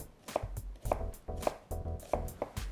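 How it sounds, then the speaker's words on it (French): A knife chops a carrot on a cutting board in a home kitchen, making six evenly spaced crisp thuds that sound close and clear, with nothing else heard. "Nous allons couper la carotte. Si elle est trop grande, nous en faisons une demi."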